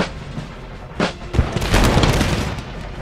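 Musket volleys in the Empire Total War battle game, Prussian line infantry firing: several loud cracks and booms come in a ragged cluster, then a sustained crackle of scattered shots follows.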